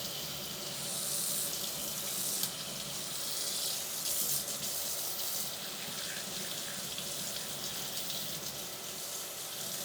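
A tap runs steadily into a sink, rinsing the horsehair of a double bass bow; constant close splashing and hissing water flow throughout, with no one speaking.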